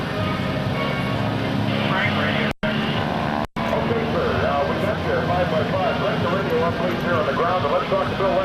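A heavy T-6 propeller airplane flying aerobatics at an airshow drones loudly overhead, its engine tone rising and shifting as it maneuvers, with a voice talking over it.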